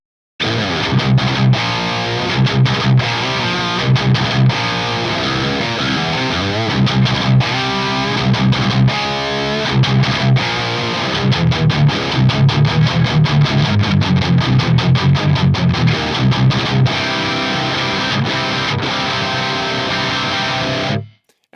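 Heavily overdriven electric guitar played through a Klon-style overdrive into an FAS AX8 modelling the 5153 amp, loud and dense riffing with sustained chords and chugging notes for about twenty seconds, alone and ending abruptly.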